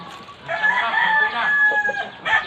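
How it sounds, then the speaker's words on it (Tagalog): Chickens cluck and a rooster crows nearby, loud and continuous, with the calls overlapping in a busy farmyard din. "Ibenta ko na yung mga manok natin."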